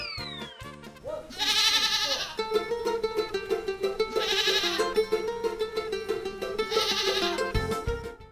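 Three loud, drawn-out goat bleats, each about a second long, repeat at roughly even intervals over sustained background music, with no talking.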